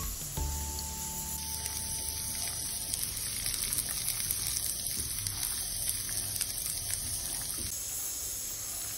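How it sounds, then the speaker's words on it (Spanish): Peanuts fry in hot oil in a pan for salsa macha, giving a steady, close, dense sizzle with crackling that runs unbroken through the whole stretch, with no voices. "Vamos a dorar los cacahuates"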